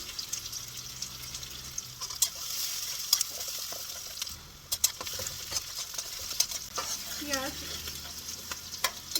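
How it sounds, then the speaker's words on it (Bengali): Onion and crushed garlic fry in hot oil, giving a steady close sizzle with intermittent scraping stir strokes throughout, and no talking. "তেল গরম হয়ে গেছে দিয়ে দিব পেঁয়াজ এবারে দিয়ে দিব থেতলে নেওয়া রসুন"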